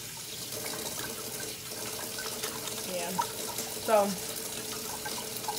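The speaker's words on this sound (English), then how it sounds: "wash my hands." Tap water runs steadily into a sink during handwashing in a home kitchen, a soft continuous hiss with a brief splash near the end, while someone speaks a few words over it.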